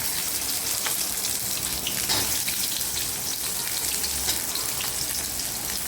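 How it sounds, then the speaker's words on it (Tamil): Chana dal, urad dal and green chilies frying in hot oil, a steady crackling sizzle with scattered pops, fairly soft and close with no talking. "கடலைப்பருப்பு, உளுந்து பருப்பு, பச்சை மிளகாய் மட்டும் போட்டுருக்குறேன்."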